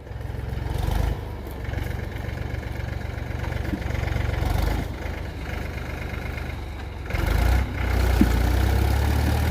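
A Mahindra 265 DI tractor engine chugs steadily pulling a harrow, a continuous low rumble that swells louder at moments, with no voices.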